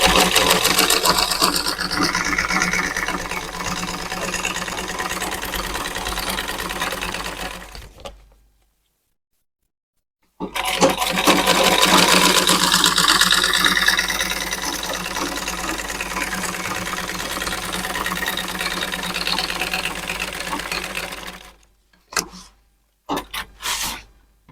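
A sewing machine runs in long continuous stretches as it stitches pleats for a ruffle auto-gele headtie. The whirring stops briefly partway through, then ends in a few short stop-start bursts.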